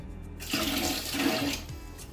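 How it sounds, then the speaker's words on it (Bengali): Water drains and gushes out of a batch of washed, soaked rice meant for pulao, a steady close rush that starts abruptly and lasts about a second before easing off, with no voices. "এই যে চালটা এর মধ্যে দিয়ে দিই জলটা ঝরিয়ে একটু শুকিয়ে নিই"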